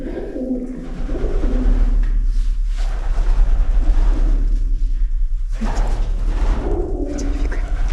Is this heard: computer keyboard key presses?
no